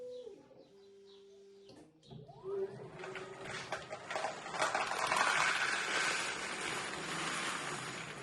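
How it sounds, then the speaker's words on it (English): A 3D-printed clamp mechanism turns three sloped discs inward to press a box into place: a steady motor whine gives way to a rising sweep, then a sustained, fairly loud mechanical whirring and rattling. "3 sloped discs rotate in and press the box into place."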